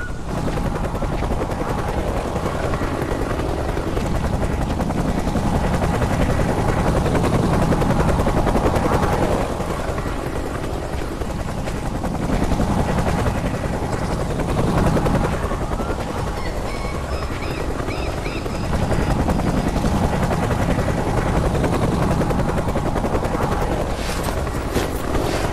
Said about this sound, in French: Un autre hélico arrive.